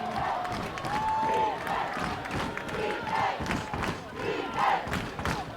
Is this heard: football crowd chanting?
yes